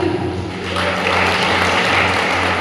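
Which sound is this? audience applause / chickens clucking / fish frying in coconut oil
audience applause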